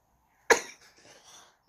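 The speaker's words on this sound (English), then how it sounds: "Sorry, I have to cough it out." One sharp, close cough followed by a faint rasping tail and a small breathy sound, heard indoors and with no one speaking.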